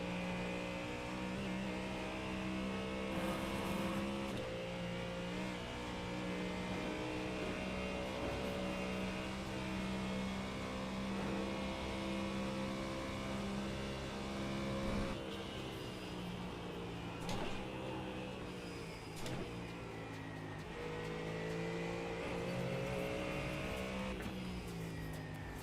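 Ford Mustang race car engine in a racing video game, loud continuous high-revving drone with repeated gear-shift dips and climbs throughout, no voices over it.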